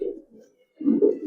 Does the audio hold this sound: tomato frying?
no